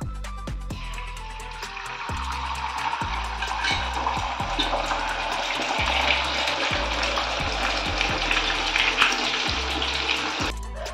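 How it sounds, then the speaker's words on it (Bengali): An egg sizzles in hot white oil in a pan, a steady, bright hiss that runs throughout, with faint low thumps scattered underneath. "তেলটা গরম হয়ে গেছে, তেলের ভিতরে ডিম দিয়ে দেবো।"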